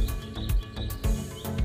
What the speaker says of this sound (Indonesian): kalau yang suara cek cek cek cek cek seperti masteran itu suara ciblek